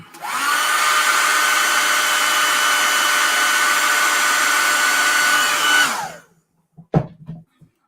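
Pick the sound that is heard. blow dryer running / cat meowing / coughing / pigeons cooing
blow dryer running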